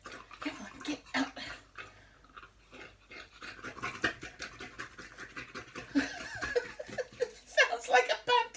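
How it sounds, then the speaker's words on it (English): A dog pants in quick, rhythmic breaths close by, with people talking and laughing over it throughout. "Sounds like a panting dog."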